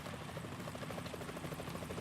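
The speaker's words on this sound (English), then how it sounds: "Is that a chopper I just heard?" In Metal Gear Solid 2, a helicopter's rotor thumps in a steady rapid chop, faint and distant, a brief continuous pass with no voices over it.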